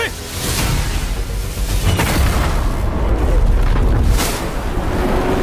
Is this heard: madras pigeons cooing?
no